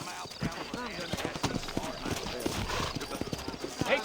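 Horses clip-clop at a steady walking pace through a Western frontier town in the Red Dead Redemption video game, close and rhythmic, with someone speaking over the hoofbeats.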